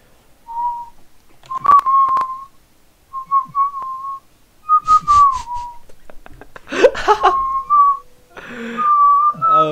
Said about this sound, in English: your whistling sounds terrible